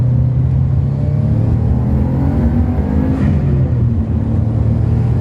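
Subaru Impreza WRX Classic with four-wheel drive accelerating hard, a loud, close engine drone rising steadily in pitch with wind and road rumble from inside the cabin.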